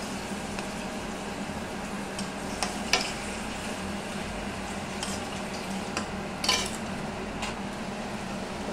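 Hilsa fish curry with mustard paste being stirred in a pan, with soft scraping and occasional light clinks of a utensil against the pan over a low, steady simmer, with no talking.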